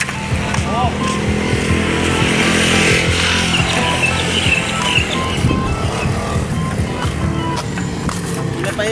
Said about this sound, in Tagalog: Malapit na, malapit na talaga ako masiraan dito sa motor ko.